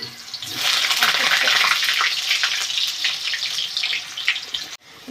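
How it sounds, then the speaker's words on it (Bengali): Potatoes for a meat curry fry in hot oil, a loud rushing sizzle that rises after a quieter opening, holds strongly, then thins and drops out briefly near the end. "দেখো মাংসর আলুটা লাল লাল করে ভাজা হয়ে গেছে"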